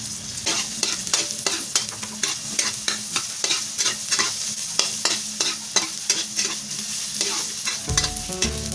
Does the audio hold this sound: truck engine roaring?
no